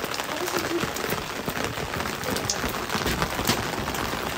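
Heavy rain falls as a steady, even hiss with scattered patters on surfaces, fairly soft and constant throughout, with faint hints of voices in the background.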